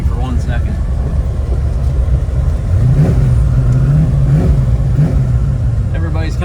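A 1966 Chevy Nova with a built small-block V8 and a 4-speed gearbox drives along, its engine rumbling up close and rising in pitch as it revs through the gears.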